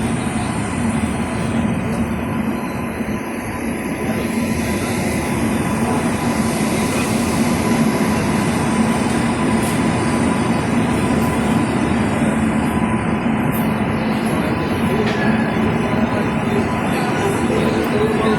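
Kongu Express passenger train running on rails between Bangalore and Coimbatore, heard from inside as a steady, loud rumble and rattle of wheels and carriages with faint intermittent clicks, no talking.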